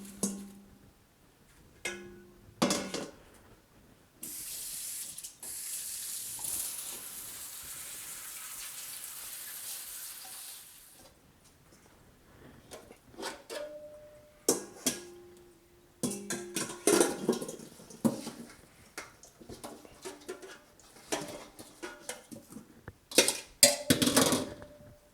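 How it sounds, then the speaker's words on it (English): Strawberries are rinsed under a running kitchen tap, with a long rush of water midway, surrounded by scattered clinks, taps and handling knocks, close and fairly quiet, with no talking. "the first thing we're going to do is go ahead and give them a good rinse"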